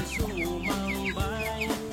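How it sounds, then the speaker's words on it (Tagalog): Chickens cluck repeatedly, short high chirping calls over a steady low hum of the surroundings, fairly close and moderately loud. "Habulin niyo itong mga manok na to."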